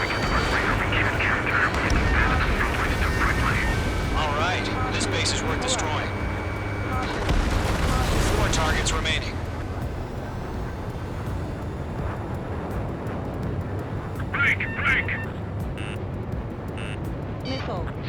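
Ace Combat 7 combat plays out as a jet roars and missiles and anti-air guns fire in bursts, sharp shots and streaks crowding the first half before thinning to a steady engine drone, with voices talking over the action.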